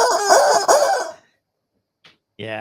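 Backyard chickens with a rooster, loud, close clucking and squawking for about a second, then near silence with a brief faint noise, and a harmonic, rising call cutting in at the end.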